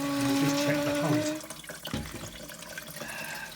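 Water rushes into a toilet cistern through an Ideal Standard inlet valve, a steady hiss with tonal whine at first, then dropping to a softer, uneven trickle and gurgle as the tank fills.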